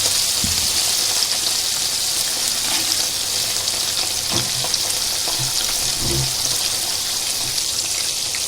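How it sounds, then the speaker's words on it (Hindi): Mackerel (bangda) fish frying in hot oil, a steady dense crackling sizzle with a few louder pops and spatters, continuous and close throughout with no talking. "गरम तेल में इसको फ्राई करेंगे, 1 मिनट इधर से 1 मिनट उधर से"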